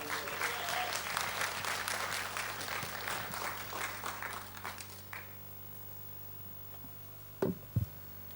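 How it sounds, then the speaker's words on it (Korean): A church congregation applauds to welcome an elder, with a lively burst of clapping that fades out after about five seconds, leaving a quiet room with a steady hum and a couple of sharp knocks near the end. "우리 장로님 나오실 때 할렐루야 우리 박수로 우리 환영하시겠습니다."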